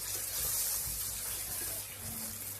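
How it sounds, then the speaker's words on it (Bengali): A little water is poured into tomato and onion frying in a pan, making a soft, steady hiss and gurgle. The sound stays faint and close with no talking. "টমেটোটাকে পেঁয়াজটাকে নরম করে নেওয়ার জন্য আমি এখানে দিয়ে দিলাম সামান্য একটুকু পানি"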